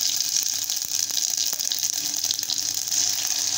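Cumin and mustard seeds hit hot oil, giving a loud, continuous close sizzle with faint popping through the brief moment.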